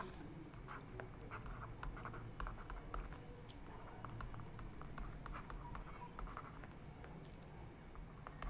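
Chalk or marker tapping and scratching on a board during a physics lecture, a steady patter of quick strokes against a low room hum, with no talking.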